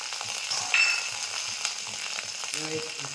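Cumin, ground coriander and ginger sizzle and fry in a pan as the spice paste is stirred, a steady close crackle with a few brief scraping sounds, no talking.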